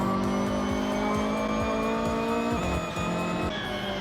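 A Honda Civic engine drones steadily with rising revs and gear shifts in the racing game Forza Horizon 6, close and continuous, with no talking.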